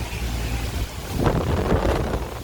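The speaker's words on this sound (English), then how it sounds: "Super windy." Steady wind buffeting a microphone, a constant low rumble that swells louder halfway through, with no voices.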